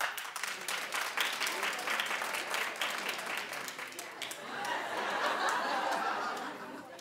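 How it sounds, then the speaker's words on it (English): Studio audience clapping in response to a show host's question, a steady mix of hand claps with some laughter and chatter, swelling again toward the end before fading. "Clap if you would."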